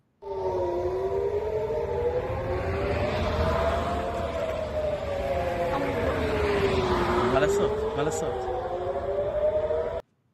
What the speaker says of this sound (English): this one has sirens too